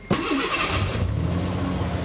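A 300k-mile Ford Bronco II engine just after cleaning of badly plugged injectors cranks briefly, catches, and settles straight into a loud, steady close-up idle with a low rumble.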